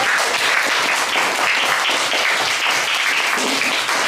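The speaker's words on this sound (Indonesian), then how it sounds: "Beri tepuk tangan untuk anak ayah." Pupils in a classroom applaud a classmate during a lesson on the Prophet Yusuf, a loud, close, continuous burst of many small hands clapping that holds steady the whole time.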